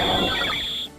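Arceus's cry from a Generation III Pokémon game, imported uncompressed: a single harsh, buzzy electronic screech lasting about a second, with a steady high whine held throughout and then cut off.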